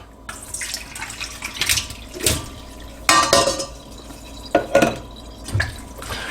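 Canned artichokes being drained into a colander in a kitchen sink: running, splashing water with several metallic clanks and knocks of the can and colander, close and moderately loud, with no voices.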